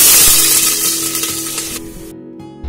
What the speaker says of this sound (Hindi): तो अब ऑनियन डाल देंगे।